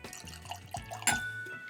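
Mountain Summit Amburana finished whiskey being poured into a glass, small close glugs and drips of liquid that come unevenly, quiet and alone.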